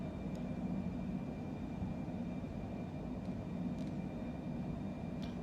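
Steady, low, even rumble of an airliner's engines at climb thrust in a flight simulator cockpit, quiet and unbroken, with a few faint clicks.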